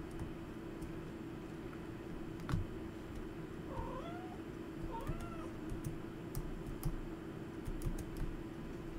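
Cat meowing in the Stardew Valley farming game, a few short rising calls at moderate level over a steady low background hum and faint keyboard-like clicks.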